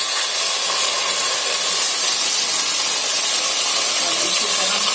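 Water poured into a hot karhi pan with cumin bursts into a loud, steady steam hiss that stays close and constant throughout, with no break or rhythm.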